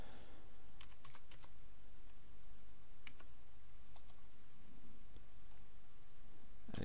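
Keys clatter on a computer keyboard as a login name is entered on a WordPress admin page: a run of quick, close, light clicks over a constant background hiss, with no one speaking.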